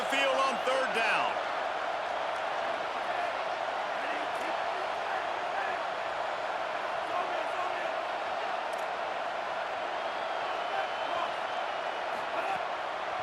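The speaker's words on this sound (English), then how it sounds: "Here comes this home crowd as the defense tries to get off the field on third down" Steady, dense home crowd roar filling a stadium in the EA Sports College Football video game as the defense faces third down, holding constant and loud throughout with a brief burst of louder noise near the start.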